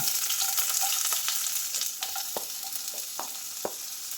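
Sliced medium onion frying in oil in a pan, a steady close sizzle with occasional stirring scrapes and clicks.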